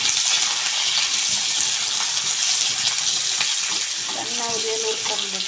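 Onions frying in a pan for bitter gourd gojju, a steady broadband sizzle running the whole time with small clinks and scrapes of stirring near the end.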